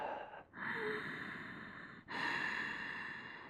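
Steady Ujjayi breathing through the nose during a mellow yoga class: two long, smooth breath cycles, close and soft, with a brief pause between them and no talking.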